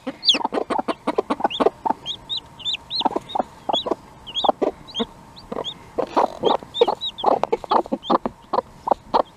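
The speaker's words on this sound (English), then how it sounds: "We got hens teaching them how to eat and drink." Hens clucking in rapid, irregular bursts, with short higher calls mixed in; a steady stream of close farmyard clucks and no talking.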